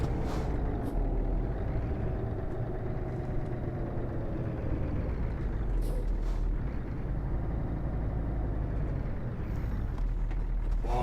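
Heavy truck in a trucking simulator game rolling and braking, with a steady low engine and road rumble plus occasional short hissing bursts like air brakes, loud and continuous throughout.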